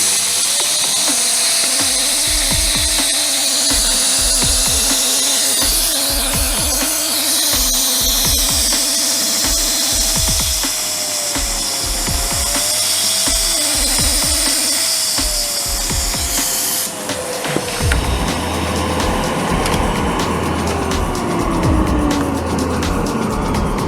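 A Karcher household vacuum cleaner is switched on partway through, after some clattering handling noises, and then runs with a loud, steady motor whine and rushing airflow close by.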